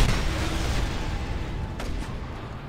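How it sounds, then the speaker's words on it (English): Explosives detonate in the Just Cause 2 video game with a loud, sustained boom that rumbles and slowly fades. "trigger the explosives. Kaboom."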